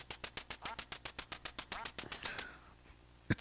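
Rapid, regular run of electronic duck quacks from the NES game Duck Hunt, about twenty in a row, then a short fading tail and a sharp blip near the end, with no talking.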